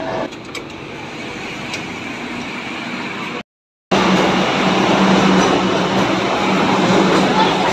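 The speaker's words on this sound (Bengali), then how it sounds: "আমরা মেট্রো ধরবো একটু পরেই" An underground metro train at Dum Dum station in Kolkata, a loud steady rumble and roar that cuts out briefly, then returns louder and harsher, with faint voices underneath.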